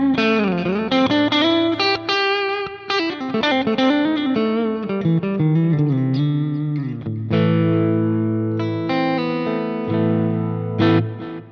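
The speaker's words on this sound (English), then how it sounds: "I'm taking away the chorus and I'm bringing the compression down, but using the compressor to push the level" Electric guitar playing a clean tone through a compressor pushing the level as a clean boost on a Quad Cortex, with picked chords and single notes ringing out, steady and upfront with no talking.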